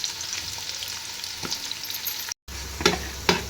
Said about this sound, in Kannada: ಉಳ್ಳಾಗಡ್ಡಿ ಅಂತೂ ಚಲೋ ಫ್ರೈ ಮಾಡ್ಬೇಕು, ಅವು ಕೆಂಪಾಗೋವರೆಗೂ